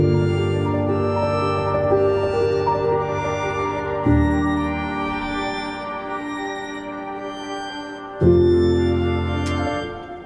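Cinematic synth pad in a music track, sustained layered chords with panning motion, shifting harmony around four and eight seconds, steady and full with no voices.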